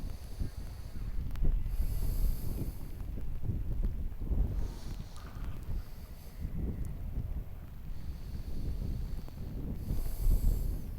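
Wind blows across Rutland Water, a steady rushing low roar with gusty swells buffeting the microphone, no voices.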